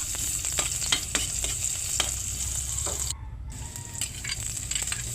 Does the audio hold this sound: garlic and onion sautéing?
yes